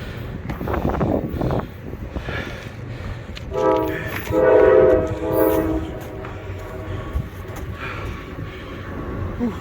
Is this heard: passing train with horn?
yes